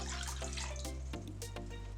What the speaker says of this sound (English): In my pot, I am adding the water